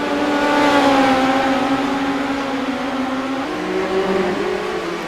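Race cars in the iRacing sim roar around the Williams Grove dirt oval, a dense overlapping engine drone that holds steady, then shifts pitch as several cars bunch together and sweep into a turn.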